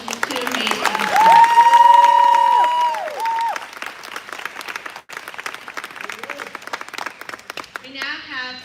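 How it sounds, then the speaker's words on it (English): An audience at a ceremony bursts into dense applause and cheering with whoops, then the clapping thins while a voice speaks over the crowd. "One more round of applause for these two amazing people."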